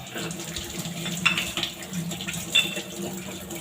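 Running water from a tap splashes over a gas stove burner that burns with a low flame, a steady close gush with occasional louder sloshing surges as the burner is rinsed.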